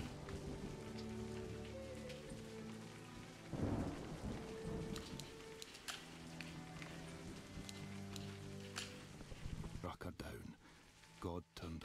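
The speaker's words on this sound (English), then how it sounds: "Storms all the time." Thunderstorm with steady rain in the video game A Highland Song, continuous rainfall hiss with a loud thunder rumble partway through and further crackling claps near the end.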